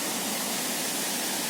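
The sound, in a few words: waterfall at the base of the Portuguese Bridge, Ethiopia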